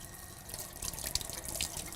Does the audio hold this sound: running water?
yes